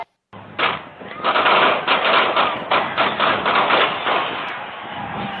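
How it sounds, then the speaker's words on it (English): A rapid series of sharp gunshots in quick succession, loud and close, repeating for several seconds in a noisy outdoor crowd outside Union Station in downtown Kansas City. "phones capture the gunshots in the crowd just outside of Union Station"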